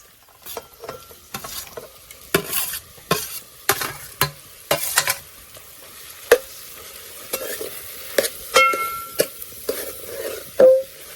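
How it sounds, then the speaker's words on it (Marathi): Sweet potato pieces frying in hot ghee in a pot as a Marathi kheer is started, with repeated scraping stirs and crackling sizzle in close, irregular bursts; no one speaks. "तर आता मी ह्या रताळा फोडणीत घालता"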